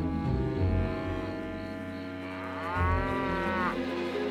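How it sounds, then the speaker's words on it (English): A cartoon cow in a Lucky Luke Western episode lets out long, drawn-out moos, loud and close, with a second bellow rising near the end. "I'm trying, but this cow isn't very helpful."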